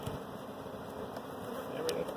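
Honey bees buzz in a low, continuous drone at the hive, close and steady, with a few individual bees passing nearby.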